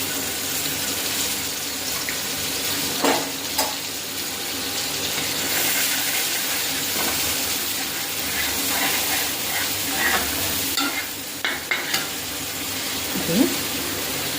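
Ground spice paste hitting hot oil with black cumin in a wok, a steady loud sizzling hiss with occasional spattering pops and stirring clinks, continuous throughout.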